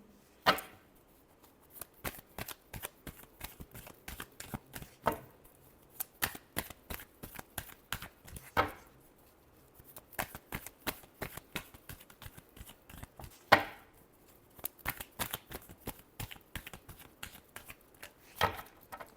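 A deck of tarot cards is shuffled over and over, with dense runs of quick, crisp flicks and taps, close and fairly quiet, broken by occasional brief pauses and sharper snaps.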